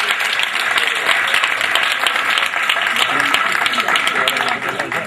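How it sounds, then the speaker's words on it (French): At a donation event, an audience claps loudly and steadily for the whole stretch, a dense wash of applause that stays strong from start to finish. "Voilà, c'est très bon, on applaudit très fort."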